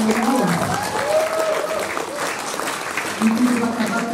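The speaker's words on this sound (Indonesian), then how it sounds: "Berikan mereka satu tepukan yang berawal." Steady applause from a concert audience fills the clip, continuous clapping at an even level with some voices mixed in beneath it.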